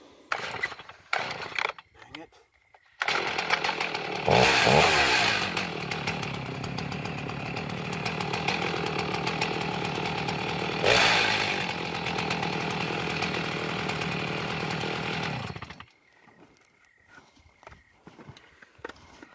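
A chainsaw roars steadily for about thirteen seconds, cutting through a board with a strained, buzzing whine, after a few brief clunks and before falling quiet.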